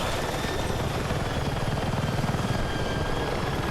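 Helicopter in the video game Battlefield 6 with a loud, continuous rotor thrum and engine roar, steady and close throughout with no voices.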